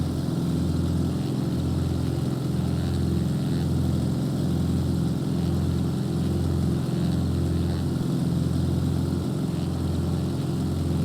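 Waco YMF5 propeller biplane engine in Microsoft Flight Simulator, a steady loud droning hum with a regular low pulsing throb that runs without a break and without talk.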